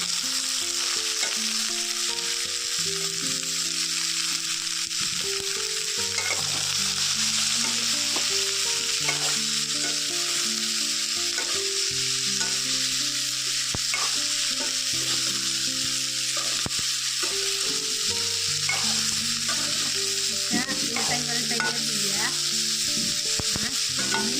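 Cauliflower and small fish fry in a pan, a steady bright sizzle running the whole time with occasional stirring clinks and scrapes, close and unbroken, no talking.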